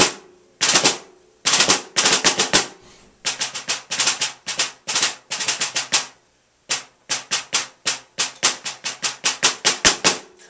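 Crisp snare drum playing the third line of Anthony Cirone's Portraits in Rhythm Solo No. 3, with fast accented bursts and rolls broken by short rests, loud and close with no talking.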